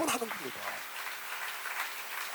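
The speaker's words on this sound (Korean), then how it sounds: "박수로 하세요." Applause from a Korean church seminar congregation breaks out after a short burst of preaching voice, then a steady, dense clapping fills the room for a couple of seconds.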